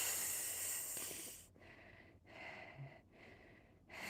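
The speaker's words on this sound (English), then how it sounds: "I am breathing hard" Heavy, hissing breaths in and out at close range, repeating in a slow rhythm of about four long exhalations, alone without talk.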